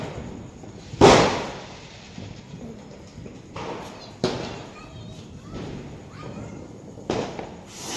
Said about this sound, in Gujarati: ફટાકડા ફોડવા માંડી છે